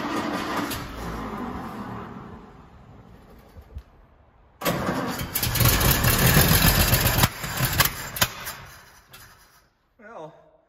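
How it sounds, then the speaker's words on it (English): An abandoned royal limousine, unstarted for about 30 years, cranks and fires with gas poured in the carburetor, its engine catching loudly for a few seconds of rough, uneven running before dying back, with someone speaking around it. "I'm gonna try a little bit more gas in the carb and see if I can get it to fire up again."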